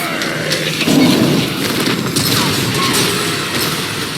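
Explosion in the video game Batman: Arkham Origins, a sustained loud, dense blast and rumble with crackling debris that stays heavy throughout.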